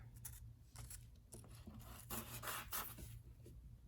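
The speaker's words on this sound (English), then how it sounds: "Scrape 2/3 of the cream off 2 cookies while maintaining a curve to resemble the moon." A knife or spatula scrapes the cream filling off sandwich cookies, giving soft, close rubbing and scraping strokes in short bursts over about four seconds against a faint low hum.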